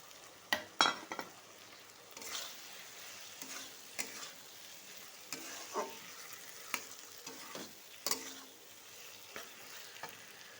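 Fried potatoes tipped into ghugni masala frying in a pan: a soft background sizzle broken by sharp spoon clanks and scrapes, scattered irregularly and up close.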